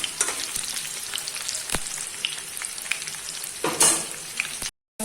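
Potatoes fry and get stirred in a pan, giving a steady nearby sizzle with scattered spoon scrapes and clicks, a louder stirring burst near the end, and then a sudden cut to silence.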